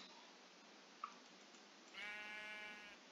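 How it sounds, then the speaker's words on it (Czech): A single Minecraft sheep bleats once, a wavering nasal cry lasting about a second over a faint background hiss. "Ovečka."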